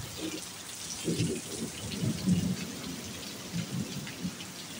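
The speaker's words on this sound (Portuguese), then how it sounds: "Mais uma chuva, sexta-feira santa." Steady rain falls outdoors at a rural site in Ipanema, in Brazil's Northeast sertão, a continuous hiss with a low rumbling undertone and scattered heavier drops.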